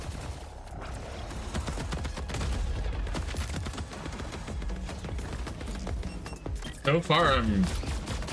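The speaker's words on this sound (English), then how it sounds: "I'm really liking the feedback from the guns" Guns fire in the video game Borderlands 4 as rapid bursts and fusillades ring out continuously, with someone talking over the shooting.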